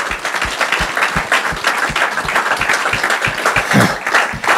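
A live audience at a lecture gives sustained, lively applause, dense overlapping claps at a steady pace throughout, close and fairly loud.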